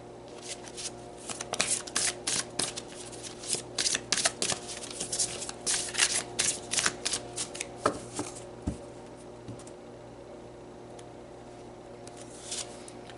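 A deck of oracle cards is shuffled by hand, a run of quick crisp riffling flicks over several seconds that then fades to quiet, close up with no one speaking.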